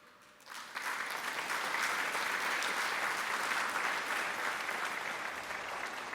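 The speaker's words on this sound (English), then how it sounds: "this is well deserving of a round of applause" Sustained, dense applause from an audience at the Fatima College bi-annual Hall of Achievements award ceremony, 2024, swelling in after a quiet half-second and holding steady and full to the end.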